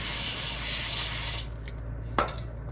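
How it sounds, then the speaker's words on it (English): Chain cleaner sprayed onto the chain of a 2020 Suzuki V-Strom 1050XT motorcycle, a steady close hiss lasting about a second and a half, followed by a couple of short spurts and a brief clack. "I'm gonna spray this with a little bit of cleaner."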